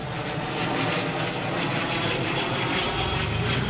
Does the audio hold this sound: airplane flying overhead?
yes